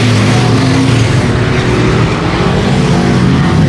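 IMCA stock cars racing on a dirt speedway during a heat race, a loud continuous roar of several engines close by with overlapping revving tones and no pauses.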